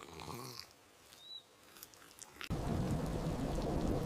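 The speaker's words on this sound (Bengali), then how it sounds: "অনেক বৃষ্টি পড়ছে," Heavy rain with thunder from a storm in the jungle: after a quiet stretch with a faint bird call, a dense, loud wash of downpour suddenly sets in and continues steadily.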